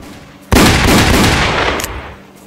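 Gunfire in a Wild West Roblox game: a sudden loud burst that holds as sustained shooting for over a second, then trails off.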